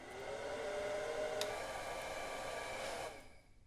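Blow dryer running in a movie scene, a faint steady whooshing hum that holds for about three seconds with a brief click partway through, then cuts off.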